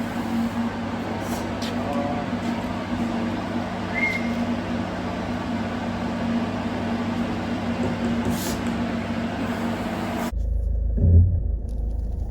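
A car engine rumbles low and steady for about ten seconds as the vehicle is brought round for pickup after repairs, then the sound cuts off abruptly into quieter room noise.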